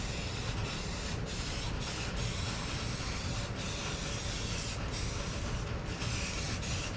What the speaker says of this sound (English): Spray a little more where it's connected.